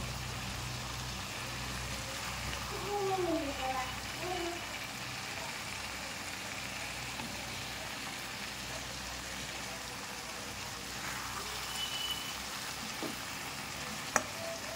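Hot water poured into a pan of sizzling braised meat curry, a bubbling hiss with some gurgling early on, continuing as a steady low sizzle with a faint click near the end.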